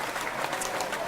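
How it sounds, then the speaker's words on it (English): A studio audience claps briefly, with a short burst of moderately loud, dense applause. "Give her some applause"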